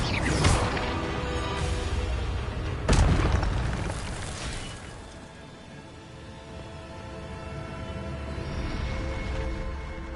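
The Incendio fire spell is cast in Hogwarts Legacy, producing two loud, booming fiery bursts a few seconds apart, each trailing into a rumbling roar that fades and swells again.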